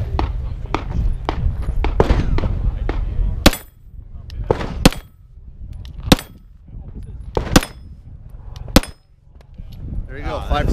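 Shots from a Walther PPQ Navy pistol crack out on an outdoor range, several sharp loud reports spaced a second or so apart, with talk in between.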